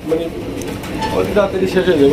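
A black exhibition pigeon and other pigeons coo nearby in a series of soft, throaty bursts that rise and fall, with someone talking over them.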